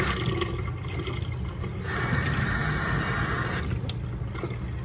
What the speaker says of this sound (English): Now the hot water is open.